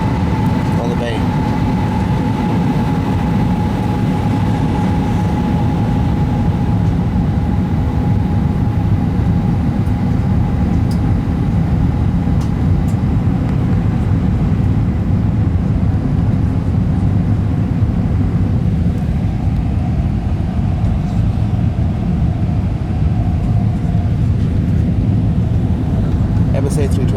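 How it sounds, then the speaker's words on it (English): Jetstar Asia Airbus A320 landing at Phuket, Thailand, heard as a loud, steady broadband engine roar that holds throughout, with a faint tonal whine above it and a slight drop in intensity toward the end. "Airbus A320."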